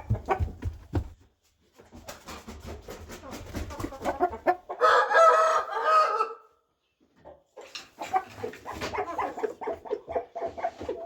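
Repeated clucking and cackling from a rooster, with a loud full crow in the middle, then more clucking; close by, with no talk.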